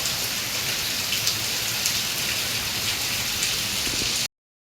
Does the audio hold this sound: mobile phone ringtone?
no